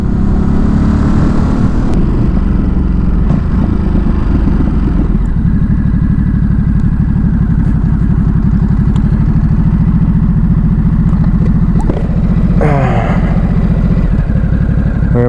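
A Ducati Supersport S motorcycle idles loudly up close after pulling over on the roadside, a steady low rumble with light mechanical clatter and a brief blip near the end.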